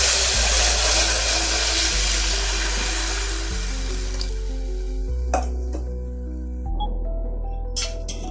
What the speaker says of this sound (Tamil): இப்போ இந்த தண்ணியை ஊற்றிடலாங்க அரிசியோடு.